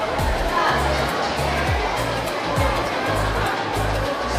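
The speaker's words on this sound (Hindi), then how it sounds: "यहाँ पर बहुत ज़्यादा भीड़ है।" Dense crowd of pilgrims at the Jatashankar Dham bathing place in Chhatarpur, a steady close murmur of many overlapping voices with no single speaker standing out.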